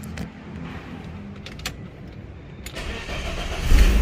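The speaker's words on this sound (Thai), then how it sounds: "ทดสอบสตาร์ทนะครับ เสียบกุญแจครับ" A BMW E34 car's key clicks softly in the ignition before the engine cranks and catches with a loud, low rumble near the end, heard up close.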